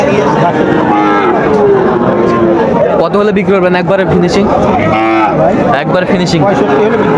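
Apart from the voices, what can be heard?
Sahiwal bull calf mooing at cattle market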